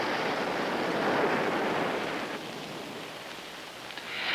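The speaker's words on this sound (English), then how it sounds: "Cape Palliser, New Zealand, on July 6th, the waves from this storm arrived." Storm-driven ocean waves breaking at Cape Palliser on the New Zealand coast, a broad continuous roar of surf that swells and then eases slightly, with no voices.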